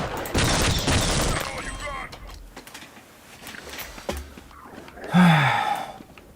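Alien grunts fire weapons in a video game: a loud, dense volley of shots up front, then scattered bursts and a final whooshing blast, with a voice talking briefly in between.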